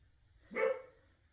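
A dog gives a single short bark, fairly faint and slightly distant, in an otherwise quiet indoor room.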